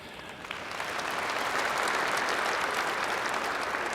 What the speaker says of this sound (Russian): присоединяюсь к вашим аплодисментам.